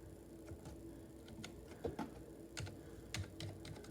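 Ducky One 2 Mini keyboard in Pure White with silent red switches, typed on up close, giving soft, muted key clicks in an uneven patter with no voices.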